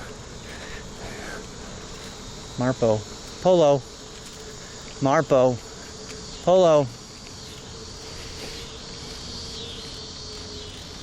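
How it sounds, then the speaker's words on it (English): Cicadas sing outdoors in loud, buzzing bursts, four or five short pulses spaced a second or two apart over a faint steady background hiss. "Cicadas are undeterred"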